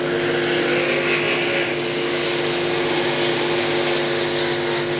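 Super Sedan race cars circling Gympie Speedway, a loud, continuous engine drone that holds steady with overlapping cars rumbling nearby, with no pause or break throughout.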